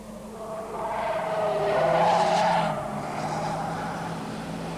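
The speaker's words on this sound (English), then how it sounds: "while the smaller Unos and Golfs squeal their way around the 34-kilometre distance" Rally cars, small Fiat Unos and VW Golfs, driving hard around bends on a 34-kilometre stage, engines droning at a distance with a swelling mid-clip squeal of tires before it fades back.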